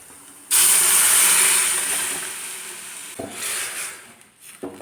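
Cooked dal poured into hot oil tempering for a Kerala-style dal curry sets off a sudden loud sizzle that holds steady, fades slightly, then is broken by a few clatters near the end.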